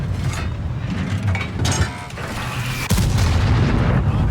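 A tier 9 Japanese tank destroyer in World of Tanks fires a gun salvo, with dense booming blasts and mechanical clanks over a constant loud rumbling battle background, a sharp heavy report near the end.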